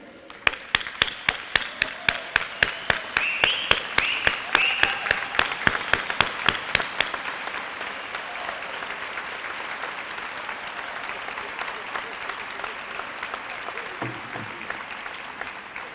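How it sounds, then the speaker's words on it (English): A standing audience at a city service awards ceremony gives public servants a loud ovation, starting with sharp, evenly timed rhythmic claps that dissolve into a steady wash of dense applause. "give a loud applause to all of those who have served this city"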